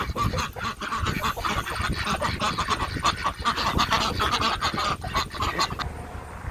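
Chickens in a backyard coop cluck and squawk continuously, a busy nearby chorus of overlapping calls with rustling and movement throughout.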